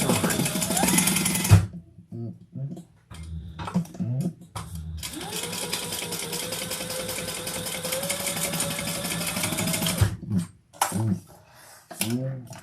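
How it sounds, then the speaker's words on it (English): A sewing machine stitches the long edges of a fabric training treat bag, starting in short bursts and then running in one long steady buzzing stretch, with a person talking before and after the run. "Then we're just sewing the long edges on."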